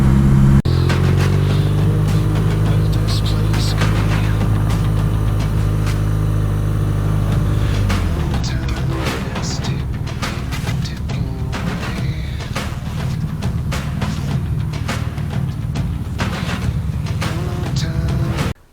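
A BMW R nineT motorcycle engine drones loud and steady at speed, then shifts into a rougher, wind-buffeted roar as the ride continues.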